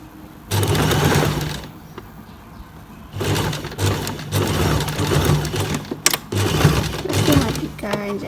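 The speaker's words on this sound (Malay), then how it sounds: "Kita tinggal jahit je terus sampai ke starting point tadi" Domestic sewing machine stitching a modern kurung sleeve, loud close bursts of rapid mechanical whirring and needle clatter that start and stop, with a voice talking between runs.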